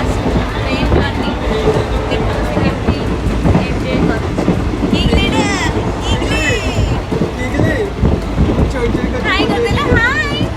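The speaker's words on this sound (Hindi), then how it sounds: "fast train journey" A fast train rumbles and clatters steadily throughout, with loud rail noise and occasional high squeals, while people talk and a voice sings over the ride.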